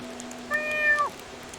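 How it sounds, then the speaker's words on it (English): A cat meows once in a cat video game, a single clear, tonal mew lasting about half a second that falls in pitch at the end, over a faint steady hum. "I'm gonna accidentally press the meow button a lot."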